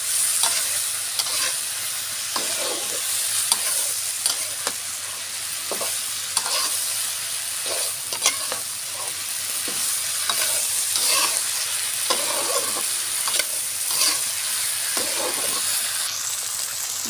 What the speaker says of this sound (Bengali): কচুরলতিটা আমি ভাজা ভাজা করব।